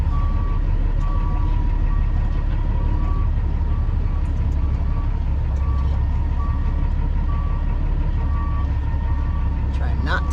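Repeated reversing beeps sound over a heavy, constant engine rumble from a Peterbilt 362 truck backing up close at hand.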